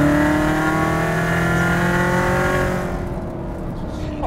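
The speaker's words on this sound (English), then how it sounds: "It's got a supercharged LT4 under the hood, big V8, big displacement and a lot, a lot of power." A Corvette Z06 with a supercharged LT4 V8 pulls hard, its loud engine note climbing steadily up through the revs up close before easing off near the end.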